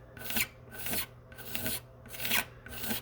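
A blade scrapes back and forth over paint-chip fill on a guitar's sparkle finish, making five or six even, rhythmic rasping strokes, close and clear with short pauses between them and no talking.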